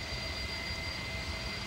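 Engines of an Inibuilds Beluga ST airliner in X-Plane 12 at 15,000 feet, a steady loud jet drone with deep rumbling low end and a thin whine above, unbroken throughout.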